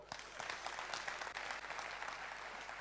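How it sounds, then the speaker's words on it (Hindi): An audience at a spiritual discourse in Sagar claps together, loud sustained applause with a few sharper claps standing out, no speech over it. "इस बात पे ताली बजाओ।"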